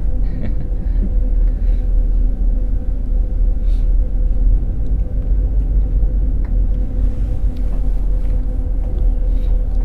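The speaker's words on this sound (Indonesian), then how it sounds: "Ini agak macet sedikit karena jam orang istirahat kerja, jam istirahat zuhur." Steady, dense road traffic creeping through a slight midday jam near a mosque, a continuous low rumble of engines and tyres with occasional faint clanks, loud and unbroken throughout.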